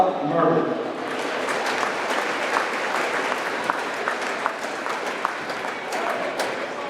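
Sustained crowd applause fills a gym during a ceremony at a high school basketball game between Jasper and Gibson Southern, steady and dense throughout, with an announcer's voice over it at the start.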